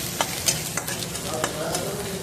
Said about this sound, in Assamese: মাছ ভজা তেলতে মই আদা ৰচুন আৰু মেথি কেইটামান দি এয়া ভাজি দিছোঁ